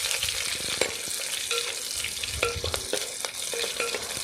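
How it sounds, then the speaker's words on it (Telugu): Green chillies soaked in buttermilk and pounded ginger frying in a pan over a charcoal stove, a loud close crackling sizzle broken by sharp pops and spatula scrapes. "మజ్జిగ చీరుకున్న మిరపకాయలు 3 నుంచి 4 వేసుకుంటున్నాను. చూసారు కదా, ఇవి బాగా వేగాలి."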